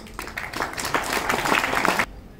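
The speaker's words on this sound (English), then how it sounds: "Applause for the place 7, Alexander Kaczorski from Belarus." Spectators at an air-rifle shooting competition in Munich give a short burst of applause, dense clapping rising and holding for about two seconds before cutting off abruptly.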